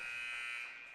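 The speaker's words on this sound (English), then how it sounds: "Cunningham has it, being guarded by Watson, and that is the buzzer." A basketball game's end buzzer sounds at a high school sub-district tournament, one loud steady electronic tone lasting about a second.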